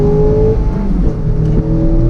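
Mazda ND1 MX-5 Miata engine held on steady throttle through a corner at VIR, a loud, continuous close-up drone with slight pitch shifts, with no talk over it.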